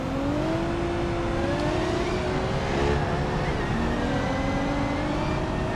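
Formula Three race cars circle a track during a live race, their engines a steady, loud droning whine with rising and falling pitch as several cars pass, continuous throughout with no talk.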